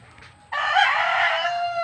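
A rooster crows loudly and close by in a rural vegetable garden in Laguna, one long drawn-out call that starts abruptly and holds to the end over faint background noise.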